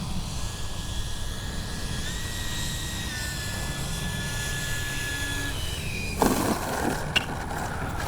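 A Freewing 70mm F9F-5 Panther RC jet flies past with a steady, loud turbine-like whine that holds throughout, its tone shifting slightly as it moves; a sharp thump and rustle break in near the end.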